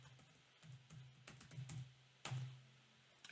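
CRM username and password typed on a computer keyboard, a quick run of light key clicks in uneven bursts, close and quiet against a low hum.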